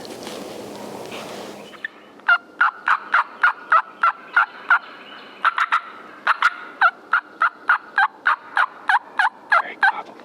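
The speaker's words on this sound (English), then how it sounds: "He gobbled." After a brief rustle, a wild turkey gobbler gives a long, steady string of loud, repeated gobbles, close by and ringing out with no talking over them.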